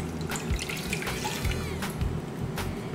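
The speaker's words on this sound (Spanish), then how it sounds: "lo que hacemos es poner agua a hervir" Tap water running into a pot being filled to boil for quinoa, a steady splashing stream with small clinks of the pot, close and continuous with no talking.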